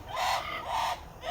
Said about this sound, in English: Really colorful green parrots here.